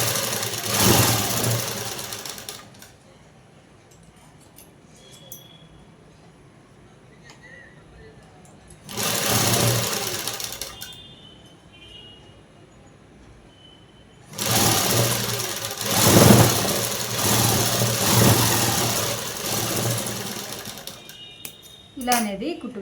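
A sewing machine stitches cloth in three bursts of fast rhythmic whirring and clatter, close and loud, with quiet gaps between runs.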